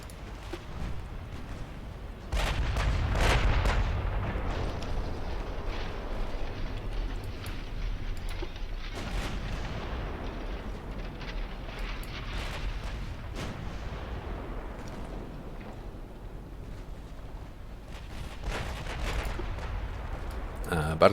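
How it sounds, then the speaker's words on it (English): Naval gunfire from destroyers pounding a battleship in Ultimate Admiral Dreadnoughts, a steady barrage of booming shots and crackling impacts layered over a continuous low rumble, loud and sustained throughout. "let's get the flamethrower DDs firing on this battleship."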